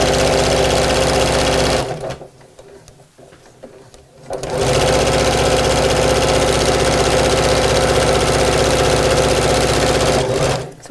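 A sewing machine stitches fabric for a tote bag in a loud, steady, rapid whir, pauses for about two seconds, then runs on continuously at close range.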